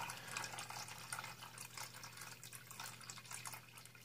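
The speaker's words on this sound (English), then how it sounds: "it just keeps draining and draining and draining" Water draining steadily from a furnace exhaust vent pipe, installed about ten years ago and sloping backwards so moisture collected inside; a continuous close trickling and splashing runs throughout with a low hum beneath.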